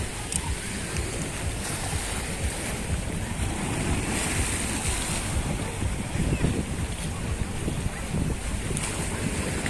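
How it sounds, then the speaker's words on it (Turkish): Calm Mediterranean sea with small waves and wind: a steady broadband rush of gentle surf and gusting air buffeting the microphone, continuous and fairly loud throughout, with no clear speech. "Deniz sakin. Çok hırçın da değil. Çok az bir dalgası var ama."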